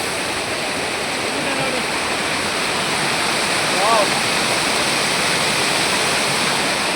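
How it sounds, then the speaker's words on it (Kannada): A large waterfall in the Balnadu hills of Karnataka, India, roars loudly and steadily close by as a dense, continuous rush of falling water. "ಸೂಪರ್ ಆಗಿದೆ, ವಾಟರ್ ಫಾಲ್ಸ್ ಅಂತ ಸೂಪರ್ ಆಗಿದೆ"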